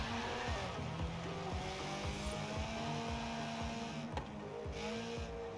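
Car drifting in the racing video game Forza Horizon 4: a steady engine drone with repeated tire squeals and skidding, loud and continuous, with no talk.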